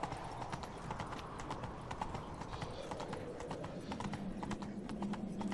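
A horse canters in The Witcher 3, its hooves clopping in an even, rolling rhythm, close and steady under a low background bed, with some talk over it.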